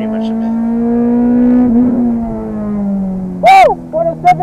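Honda S2000 engine droning steadily on a soaking wet track in pouring rain, its tone rising and falling gently, then a loud whoop breaks in near the end along with short bursts of voice.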